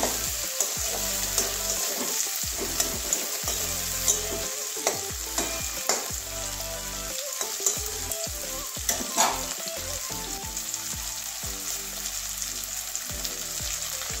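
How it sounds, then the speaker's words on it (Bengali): A large chopped onion fries in hot oil for a Bengali spinach and snail curry, a loud, close, continuous sizzle with occasional stirring scrapes, backed by steady background music. "ভালো করে ভেজে নেবো পেঁয়াজটা"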